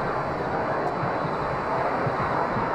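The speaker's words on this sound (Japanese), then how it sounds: "あ、飛行機の音が聞こえます。" Steady, broad droning roar of aircraft flying over a city in Iraq during a wartime airstrike, sustained and somewhat distant with no talk.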